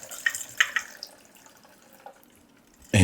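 Homemade Italian amaro liqueur poured through a fine mesh screen into a wide mouth jar, with light trickling and scattered drips that thin out, ending in a sudden louder splash.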